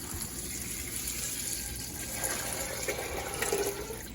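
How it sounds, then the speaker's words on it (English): Water runs steadily into a pot of dried beans being readied for ham and bean soup, a continuous close gushing wash that holds evenly throughout. "So we're going to add some water and get things going."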